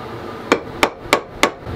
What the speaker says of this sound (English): now we just need to spend a few minutes with a nice sharp chisel and square up those inside